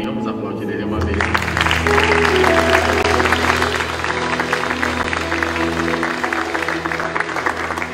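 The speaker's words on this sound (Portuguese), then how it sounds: "Vamos aplaudir Ele uma vez." A church congregation applauds after a closing prayer, a broad wash of clapping over a sustained organ or keyboard chord, with voices mixed in the crowd noise.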